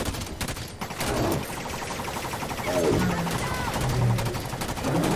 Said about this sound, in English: at least they still have the normal cannon, but goddamn, it sounds so wimpy now